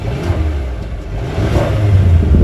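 A 2020 Mercedes GLA 250's engine revs from inside the back seat, a deep low throaty rumble that rises and swells toward the end, loud and close.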